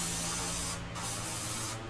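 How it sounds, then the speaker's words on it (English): An airbrush sprays India ink into a wad of old paper towels to clean it out, a loud steady close hiss of air with brief dips where the trigger is eased off. "that's where I spray so I can clean my airbrushes"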